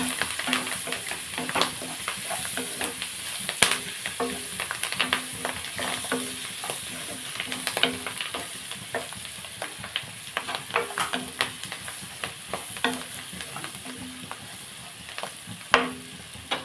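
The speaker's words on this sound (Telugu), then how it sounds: "కరివేపాకు కూడా వేస్తాం ఇవన్నీ కలిపేస్తున్నాను" Curry leaves and dried prawns frying and being stirred in a pan for a sesame flour curry, a close, continuous sizzle broken by frequent scraping and clinking of the spoon against the pan.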